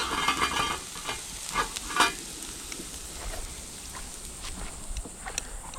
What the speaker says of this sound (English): we got our Sheepshead grilling on the half shell here. Sauteing some peppers.